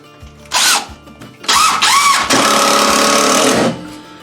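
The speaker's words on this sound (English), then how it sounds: "I'm going to put another screw right up through here." A power drill drives a screw through backer board on a wooden handle for a yard trailer: a short whirring burst, then a higher-pitched spin-up, then a steady sustained whine of about two seconds that cuts off abruptly.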